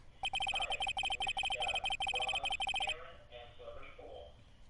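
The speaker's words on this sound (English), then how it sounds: "Oh, there's the phone." A telephone rings in the Phoenix Wright: Ace Attorney courtroom video game, a rapid electronic trill in repeated bursts lasting about three seconds, followed by quieter game sounds.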